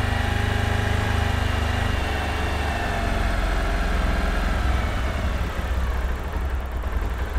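A motorcycle engine held steady at around 3000 rpm drones in an even, close hum with a constant low rumble and no change in pitch.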